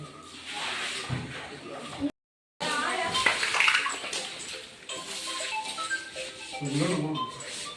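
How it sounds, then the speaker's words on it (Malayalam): Water poured and splashed while washing out a flood-damaged house, a steady wash of running and sloshing water with shuffling movement, children's voices talking over it throughout. "കുഞ്ഞുങ്ങൾ ചെറിയ രീതിയിൽ വെള്ളം ഒഴിച്ച് കഴുകി വിടത്തേ ഉള്ളൂ"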